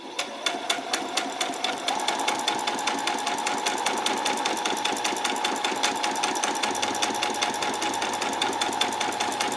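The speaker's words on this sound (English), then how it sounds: "we're going to run the stitches exactly the same right the way along" Sewing machine running a long straight line of stitches on fabric for a peasant top, a rapid even mechanical clatter of needle strokes, close and continuous, with no talk.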